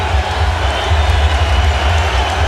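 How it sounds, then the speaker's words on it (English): A basketball arena crowd at a 2001 NBA playoff game cheering wildly on its feet, a dense roaring wall of voices, loud and continuous, with a commentator faintly audible beneath. "This crowd is on its feet, and they are hysterical with what they're seeing from Vince Carter."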